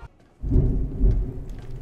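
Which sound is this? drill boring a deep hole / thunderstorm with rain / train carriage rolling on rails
thunderstorm with rain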